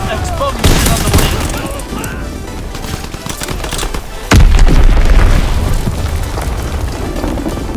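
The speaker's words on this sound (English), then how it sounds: "Dropping Fritz X bomb. Fritz X bomb is on the way." A Fritz X guided bomb blasts in Call of Duty WWII multiplayer with a heavy, loud boom that hits sharply midway, over a background of scattered gunfire and battle noise.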